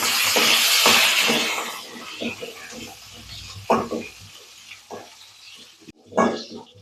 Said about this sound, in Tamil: வெங்காயம் பூண்டும் நல்லா வதங்கிருச்சு